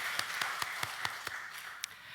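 A church congregation applauds the choir after a hymn, heard as faint, steady clapping under a roomy wash, with a few louder individual claps standing out at a regular pace.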